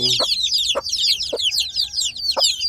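Constant high peeping of many newly hatched Indonesian native village chicks fills the air while their mother hen gives several low, evenly spaced clucks underneath.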